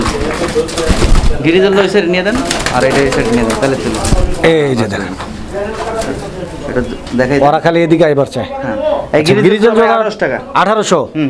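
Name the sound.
grizzle fancy pigeons cooing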